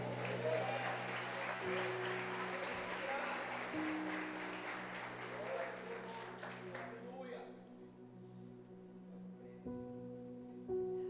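A church congregation breaks into applause over sustained music, a thick clapping wash lasting several seconds before tapering off, with a voice speaking on top near the end.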